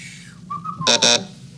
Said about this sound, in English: is starting to whistle